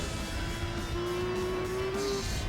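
A turbocharged Toyota Supra engine in Gran Turismo 4 drones steadily under a faint, rising turbo whine, dense and continuous, with a gritty, synthetic game-like quality.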